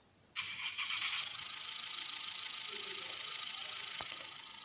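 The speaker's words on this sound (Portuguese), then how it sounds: "vamos dar partida no carro" A car engine in the Pick Up game cranks and catches with a sudden loud whine, then settles into a steady mid-pitched idle running alone to the end, with a faint click near the finish.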